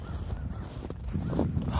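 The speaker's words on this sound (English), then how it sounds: "You can hear some crows, guys." Crows caw a few times out in the open, hoarse calls mixed with steady outdoor background noise, moderately distant, in Black Bridge Forest.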